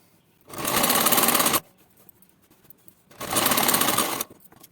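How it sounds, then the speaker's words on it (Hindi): Sewing machine stitching a straight seam along a salwar hem, two loud, close bursts of fast rhythmic whirring, each about a second long, separated by a short pause. "अब हम इस पर भी एक सीधी सिलाई लगाएंगे"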